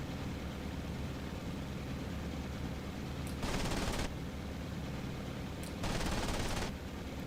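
Aircraft machine guns in the IL-2 1946 flight game, fired by an A6M2 Zero, two short bursts heard over a constant engine drone, each burst roughly half a second to a second long.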